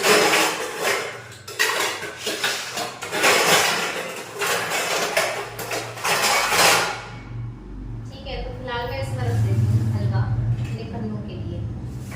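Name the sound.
dishes and bowls being handled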